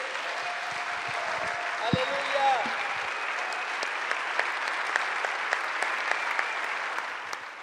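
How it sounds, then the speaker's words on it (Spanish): A church congregation applauds throughout in dense, sustained clapping at a moderate level. A voice speaks briefly over it near the start. "Aplauda al Rey de Reyes."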